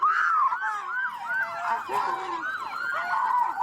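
Police sirens wail from a distance during a traffic stop, several overlapping rising and falling tones that weave continuously and moderately faint throughout.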